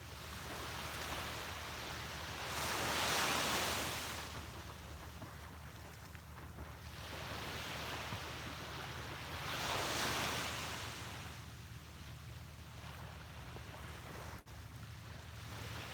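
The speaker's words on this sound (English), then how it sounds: "Listen to the sound of those waves for a few more moments" Ocean waves roll in and break on a beach in slow, swelling surges a few seconds apart, with steady wind rushing across the microphone between the crests.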